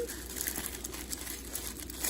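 Tissue paper is pulled from a thick shopping bag and crinkles and tears up close in a steady stream of papery rustles, with no talking over it.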